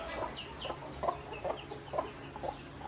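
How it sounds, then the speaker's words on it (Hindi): A hen clucks in a steady, repeated rhythm, short clucks every half second or so against a noisy outdoor background. "ये मुर्गी बहुत अच्छी है।"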